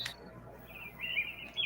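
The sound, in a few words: birds chirping sound effect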